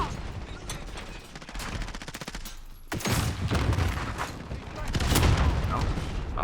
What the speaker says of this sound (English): Oh, it's a grenade.